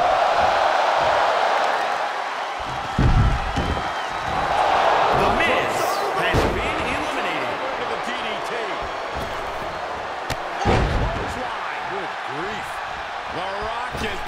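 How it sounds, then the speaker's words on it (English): Crowd noise from a Royal Rumble match in WWE 2K22, a dense, sustained roar with swelling cheers and scattered thuds and slams, mixed under commentary-style speech. "Listening to this crowd"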